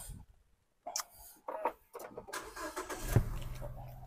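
A 2012 Nissan Juke RX engine cranks and starts after a quiet pause, catching with a rising rumble that settles toward idle, heard close and fairly faint with small handling noises before the start.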